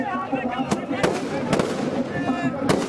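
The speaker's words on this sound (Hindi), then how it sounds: "इस मौके पर आतिशबाजी भी की गई।" Fireworks set off by celebrating Congress party workers crackle and pop in sharp, repeated bangs over a loud, continuous crowd din with voices.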